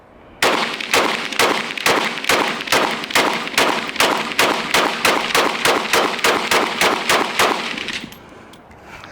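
Rapid string of about twenty sharp shots from a first-generation FN Five-seveN pistol, fired fast at a steady, even pace for roughly eight seconds, loud and close, then stopping abruptly.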